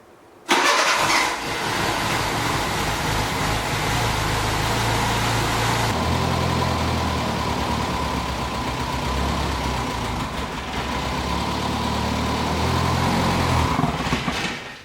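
An abandoned Renault car left sitting for nine years cranks briefly, fires and runs, then holds a loud, steady idle close by with slight shifts in engine pitch and no talk.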